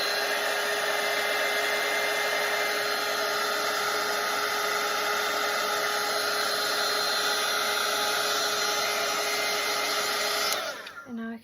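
A hair dryer drying a watercolor painting of a coastal lighthouse scene runs as a steady, close, even whir for about ten seconds, then clicks off abruptly near the end.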